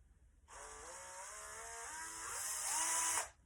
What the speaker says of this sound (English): use a variable speed cordless power drill for that